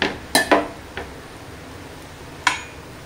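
Poha (flattened rice) being stirred and tossed in a metal pan, with a few sharp clinks and scrapes of a spoon against the pan, grouped near the start and one more after a pause, close and moderately loud.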